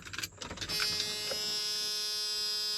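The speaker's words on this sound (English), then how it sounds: "Fuel pump turned on. Sounds pretty weak, though." An old Ford F-150 pulled from the woods primes its fuel pump, a faint steady electric whine that follows a few clunks and rattles and holds quietly to the end.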